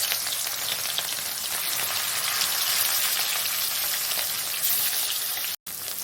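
Fish coated in turmeric and pepper frying in hot mustard oil, a steady close sizzle and crackle throughout, cut by a brief silent gap near the end.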